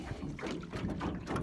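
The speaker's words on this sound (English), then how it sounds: "as long as I just keep it straight upwind, steady and keep paddling, I'm good" Water splashing and sloshing against a canoe as a paddle strokes upwind, with steady wind buffeting the microphone throughout.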